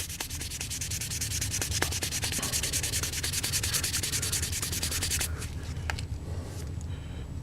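Close, fine rubbing strokes of detail sanding over clear coat on painted lettering run steadily for several seconds, then stop, leaving quiet background.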